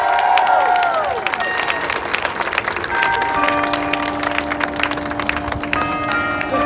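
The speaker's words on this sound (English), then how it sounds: "Let's give everybody a round of applause." A crowd applauds at a Bishop Kearny High School event, dense clapping and some cheering that holds steady, with a few sustained tones and a brief voice mixed in.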